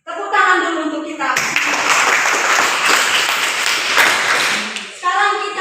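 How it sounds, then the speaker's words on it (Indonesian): A class of students breaks into loud, dense clapping in a classroom, a burst of many hands lasting about four seconds, with a voice talking just before and just after. "tepuk tangan dulu untuk kita."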